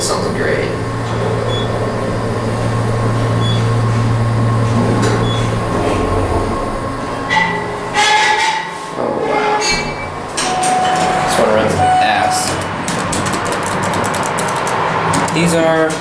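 A generic traction elevator, likely KONE, runs fast in the Dublin BART garage in Dublin, CA at night: a steady low motor hum and cab rumble, then clanks and rattles midway as the ride settles, with brief thumps and faint talk.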